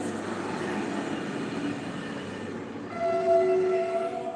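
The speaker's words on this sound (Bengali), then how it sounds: "ট্রেন আসছে ট্রেন" Steady rumble of a passing train, with a train horn sounding clearly for a moment near the end.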